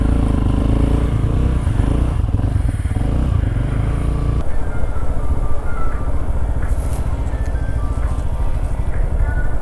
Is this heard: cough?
no